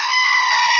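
Goat bleat sound effect, a single loud, sustained nasal cry that holds steady for the whole moment and stands alone with no talking.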